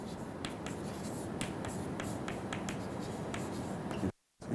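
Marker or chalk strokes scratch across a board as an equation goes up during a lecture, a steady scraping texture with short tapping accents, fairly close and continuous, ending in a brief dropout.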